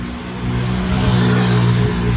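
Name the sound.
motorbike passing by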